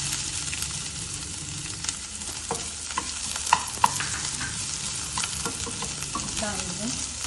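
Chopped onion frying in a pan with garlic for a fenugreek leaf dish, a dense continuous sizzle with scraping stir strokes and a few sharp clinks, close and loud.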